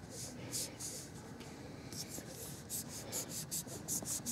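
A kitchen knife slices through dense ballistic putty in a run of soft, repeated scraping strokes, fairly faint and close, with brief pauses between passes.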